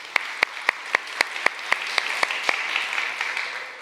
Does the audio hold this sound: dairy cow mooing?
no